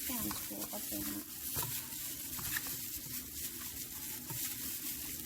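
Rice being stirred and mixed with salt, soy sauce and other ingredients for a rice and chicken dish, a steady scraping churn with light sizzling throughout, close by.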